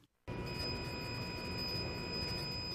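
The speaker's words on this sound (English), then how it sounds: "This is the sound of the motor in operation." Hybrid electric motor of a 2010–2015 Toyota Prius starts with an abrupt onset as the car sets off, then holds a steady, faint whine with a broad low hum.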